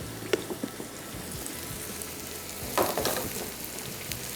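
Onions sizzle and crackle in a pan alongside chicken with crushed red chillies, a steady close frying hiss with a few sharper pops and a brief flare of spitting partway through, no voices.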